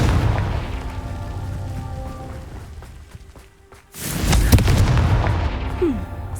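The Confringo fire spell bursts in the video game Hogwarts Legacy: a sharp, loud explosive boom cuts through ambient game music and sound and leaves a lingering rumble, with no talking.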